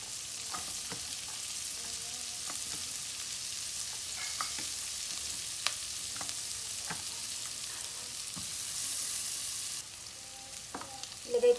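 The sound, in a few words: garlic and onion sautéing in butter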